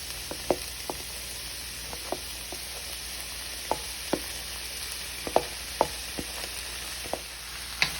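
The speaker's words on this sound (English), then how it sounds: "Once my mixed veg have sauteed, I am going to go in with half of my rice." Mixed vegetables sauté in a pan for chicken fried rice, giving a steady, faint, hissing sizzle broken by scattered sharp taps and clicks from a utensil.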